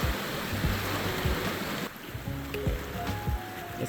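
A river surges past a hiking trail crossing with a strong, continuous rushing wash, loud at first and then a little softer, with faint knocks and scrapes over the flow.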